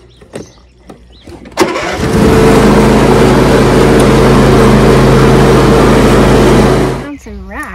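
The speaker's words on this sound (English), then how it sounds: "And we're gonna use the lawnmower to do it." A lawnmower engine is pulled into life during overgrown garden cleanup, catching abruptly and settling into a loud, steady running drone for several seconds before cutting off, with brief speech before and after.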